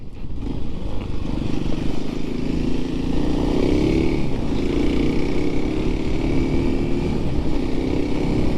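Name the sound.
small 300cc dirt bike engine running on muddy trails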